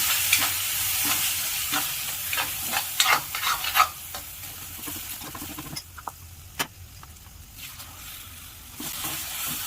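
Coarse-ground masala for a village-style Maharashtrian brinjal curry sizzles in a pan with a splash of water while a spoon stirs it, giving close scraping, pattering crackle that fades to a quieter hiss.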